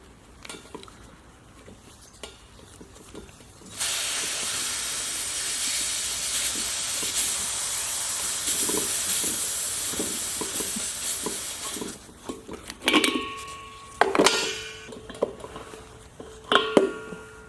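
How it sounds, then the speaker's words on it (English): Propane bottle unscrewed with pliers, releasing a loud steady gas hiss for about eight seconds, followed by sharp metallic clicks and handling knocks as the hiss stops. "I'm going to just take a pair of pliers to hold this tight while I unscrew the bottle."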